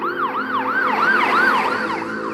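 A wailing ambulance siren sweeps up and down in a continuous, fast repeating cycle, loud and close with a faint traffic rumble beneath and no voices.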